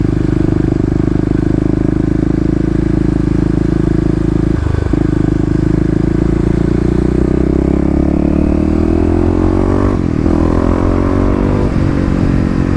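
An EFI Kawasaki KLX351 dirt bike rides through city streets, its loud, steady engine drone rising and falling as the throttle rolls on and off. A brief dip comes near five seconds, and a rising rev follows around ten seconds.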